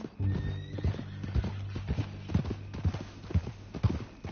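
A horse in the video game Red Dead Redemption clip-clops in a steady walking rhythm on hard ground. A long, clear whinny rises over the hoofbeats near the start, and there is no talk.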